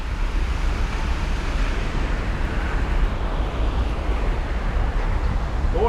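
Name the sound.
rumble of water rushing into a canal lock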